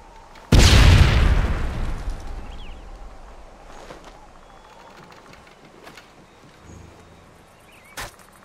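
A grenade blast in a hardcore search-and-destroy round of a first-person shooter video game: one loud, sudden boom with a long decaying rumble, followed by faint distant effects and a brief sharp pop near the end.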